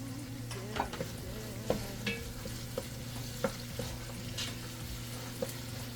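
A spoon stirs tomato paste sauce in a hot pan, with a gentle sizzle underneath and soft scraping strokes at irregular intervals, close and steady.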